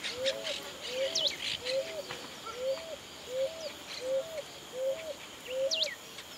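Waterbirds near a stream in the Espinal of Santa Fe, Argentina, where grebes, herons and coots gather: a steady series of short rising call notes repeats about every half second, with fainter chirps and sweeping whistles behind.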